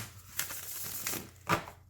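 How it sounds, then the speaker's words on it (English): A tarot card deck being shuffled close up, giving a few quick riffling bursts of paper crackle with short pauses between them. "But I gotta tell you guys, this deck shuffles."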